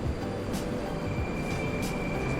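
A rumbling Moscow metro train rolls past close by, a steady low roar of wheels on rails with faint metallic whines, no voices.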